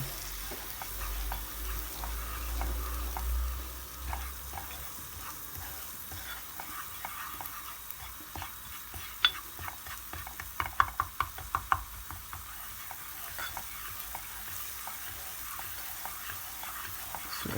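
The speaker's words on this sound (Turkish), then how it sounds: "Sürekli karıştırıyoruz." Cornmeal roasting in butter in a pan is stirred continuously, giving a soft steady sizzle with dense scraping strokes and a few sharper clicks of the utensil near the middle.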